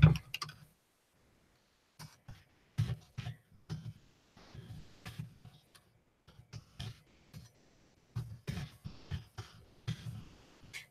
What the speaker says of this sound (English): So I'm going to type something in right here.